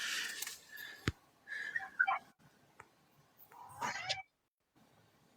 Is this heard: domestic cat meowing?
yes